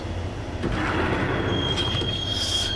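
A train rolls along in the Max Payne video game with a steady, loud rumble of wheels on track. A thin wheel squeal rises over it near the end.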